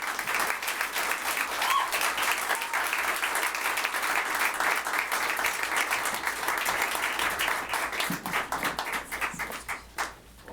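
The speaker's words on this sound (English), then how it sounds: "round of applause for all of our new voices under the age of 26" Audience applause at a musical theatre festival, a sustained wash of many hands clapping that holds steady for several seconds, then thins into scattered claps and fades near the end.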